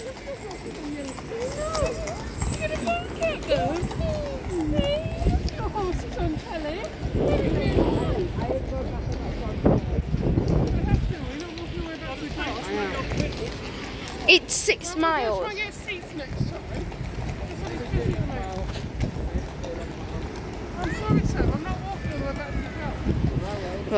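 Hooves clip-clop past in an uneven rhythm amid busy outdoor noise in Blackpool during the illuminations, with people talking over much of it.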